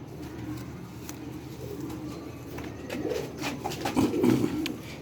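A new pair of Sialkoti pigeons coo softly and repeatedly, fairly close, over faint background noise, with a fuller burst of cooing toward the end.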